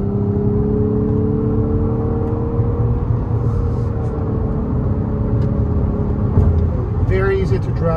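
A 2022 Infiniti QX50 accelerating in sport mode, its engine note a steady, close rumble with rising tonal bands throughout, while a person talks over it.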